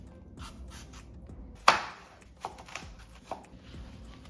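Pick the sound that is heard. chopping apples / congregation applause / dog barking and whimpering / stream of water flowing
chopping apples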